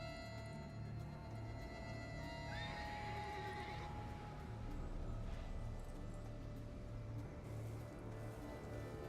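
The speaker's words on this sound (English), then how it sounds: "This one's assumed the form of a horse." A horse in The Witcher 3 gives a clear whinny rising and falling over a couple of seconds, over a steady rumble of galloping hooves and low background noise that continue throughout.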